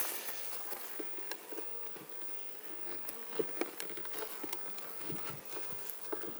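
Soft buzzing of honeybees on a few frames in the center of a hive box during a spring inspection, a faint steady drone with occasional light knocks and handling taps.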